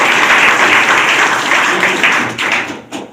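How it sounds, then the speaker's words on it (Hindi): Applause from an audience at a new striker training and psychology session, a dense sustained wash of clapping that holds steady for most of the stretch, then breaks up and fades near the end. "एक बार तालियां होनी चाहिए।"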